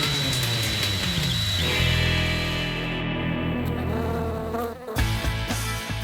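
Live bees from a MythBusters vodka test buzz in a steady, loud, continuous drone, close and unbroken, with no voices over it.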